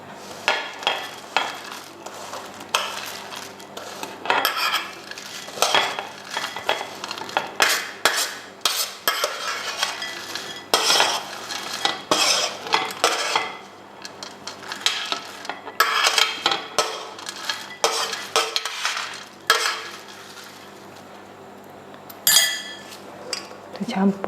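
Almonds are stirred together in a bowl with a utensil, making continuous scraping and clinking with rattling nut sounds throughout, while a voice talks at intervals.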